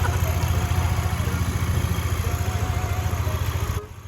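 Motorcycle engine idling steadily up close, a continuous low throbbing rumble that drops away abruptly near the end.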